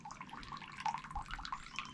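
Drinkable water running and splashing from a shrine fountain in Japan, a soft continuous trickle with light drips, heard faintly up close with no talking.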